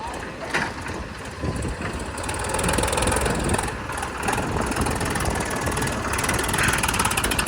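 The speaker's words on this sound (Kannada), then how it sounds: "ಇವಾಗ ಸೊನಾಲಿಕ ಗಾಡಿ ಲೋಡ್ ಆಗೈತಿ ಇದು ಹೋಗತಿ" A Sonalika tractor engine labors under a full trailer load of soil, a steady broadband diesel drone holding at moderate level throughout with slight swells in loudness.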